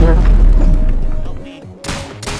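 Gunfire in the video game Rounds during a team deathmatch, a few sharp bursts near the end after a stretch of mixed game noise, with players talking excitedly over it.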